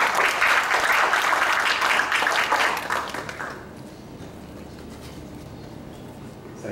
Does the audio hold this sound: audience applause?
yes